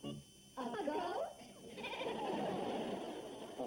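A goat on a farmhouse porch gives a few wavering bleats, near and fairly loud, overlapping one another across the clip with no talk over them.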